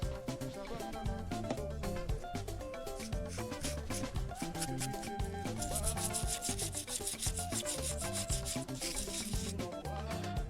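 Someone scrubs a VW Golf II carburettor part clean with petrol, producing close, rapid, rhythmic rubbing strokes that continue steadily without speech.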